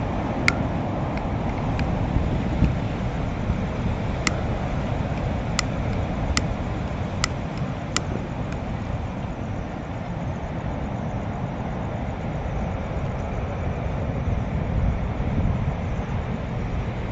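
Strong wind roaring across a forested mountainside, a steady broadband rush lasting throughout, with a few faint high clicks early on and no speech.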